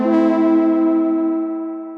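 A single sustained instrument tone fed through a modulated delay effect app, its washy, reverb-like tail slowly fading over about two seconds, close and fairly loud with no voices.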